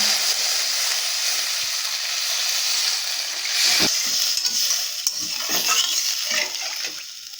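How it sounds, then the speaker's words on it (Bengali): Water poured into sizzling fried masala in a pan for a fish curry, a loud rushing hiss and bubbling that swells midway, with a few knocks near the end, no talking. "মশলাটা আমার খুব ভালো করে কষানো হয়ে গেছে, এবার আমি পরিমাণ মতন জল ঢেলে দিচ্ছি।"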